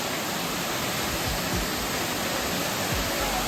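Water pours over a check dam near Ubbalamadugu waterfall, a dense, steady roaring rush filling the whole moment, close and unbroken, with no talking.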